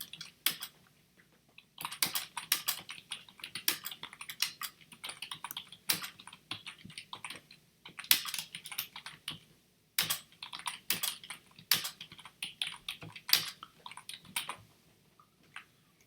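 Rapid bursts of close computer keyboard typing, clattering keystrokes in several runs broken by short pauses, with no voice.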